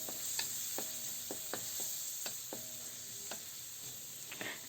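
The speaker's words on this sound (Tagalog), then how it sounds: "Ayan, lutuin lang natin ang kamatis." Tomatoes sauté with onion and garlic in a pan, a soft steady sizzle punctuated by regular scraping and tapping of a spatula, fairly quiet and without talk.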